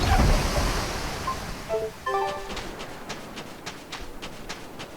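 Steady rush of sea waves and wind in Tales of Berseria as a scout ship sets sail, loud at first then settling under brief tonal game cues and light rhythmic clicks.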